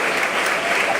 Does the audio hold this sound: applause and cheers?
yes